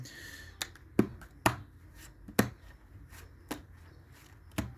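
Deck of playing cards being riffled and shuffled by hand before a magic trick, with sharp, close snaps and flutters recurring about once a second against a quiet background.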